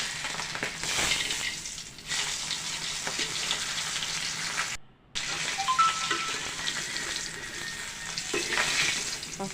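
Close, steady sizzle of pangas fish frying in oil, with stirring scrapes and crackles throughout; the frying cuts out for a moment near the middle, then resumes at full strength.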